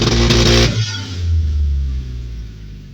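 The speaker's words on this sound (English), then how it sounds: "Okay, that's anti-lag or launch control." A turbocharged Toyota 3RZ engine on launch control or anti-lag, run by a Haltech Elite 1500, holds a loud, rough, pulsing rev with a burst of sharp crackle at the start, then settles into a steady drone.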